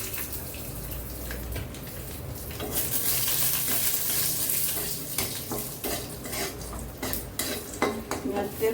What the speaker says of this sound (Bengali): চিনাবাদামটা দিয়ে একটু লাল করে ভেজে নেব।